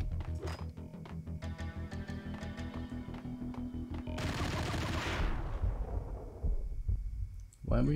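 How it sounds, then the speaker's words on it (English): Max Payne video game gunfire: a rapid string of evenly spaced shots over a low music bed, then a louder burst of noise and a few heavy bangs toward the end. "Why were you just shooting at the wall, dude?"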